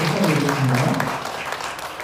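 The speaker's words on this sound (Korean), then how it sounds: "여러분 이때 필요한 건 큰 박수가 필요합니다." Wedding guests in a hall burst into a brief, dense round of clapping, loud and close, lasting only a couple of seconds.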